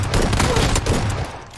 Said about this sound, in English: I'm gonna nade. He didn't see me. Throwing a nade.